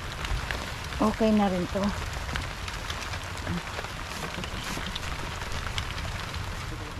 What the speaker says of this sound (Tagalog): Inabot talaga ng ulan, no?